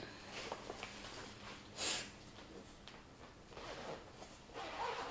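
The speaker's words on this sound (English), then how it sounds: "Pardon the zipper sounds." A zipper being pulled in a few short rasping strokes, one louder burst near the middle, close by and quiet, with no speech.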